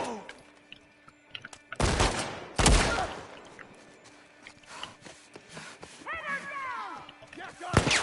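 Gunfire in The Last of Us Part 2 comes as two sharp, loud shots a second apart, set against quiet ambience with scattered small clicks and a brief warbling sound near the end.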